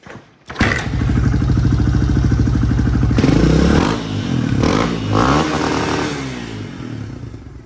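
Suzuki DR200 single-cylinder motorcycle engine starting up with a thud, then idling with a steady close throb before changing pitch and revving a little, loud and alone.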